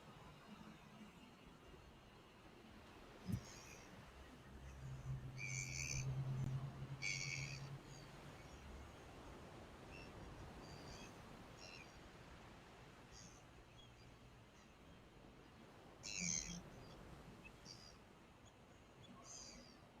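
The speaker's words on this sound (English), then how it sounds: "I'm going to try and play the call for you here, see if you can hear him." Faint, recorded calls of a Hartlaub's gull played back, a few brief high squawking bursts spaced apart over low, steady outdoor background noise.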